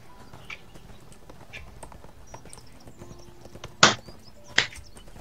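Horse hooves clip-clop in the 2014 MMO ArcheAge: a light, steady run of soft hoofbeats under ambient game sound, followed by two loud, sharp clacks close together near the end.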